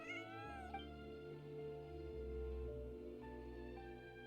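A cat in the Genshin Impact video game meowing once near the start, then steady game music and ambience carrying on underneath.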